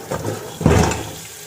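Water pours in a short splashing gush into a pressure cooker holding rice, close and brief, with no talk over it.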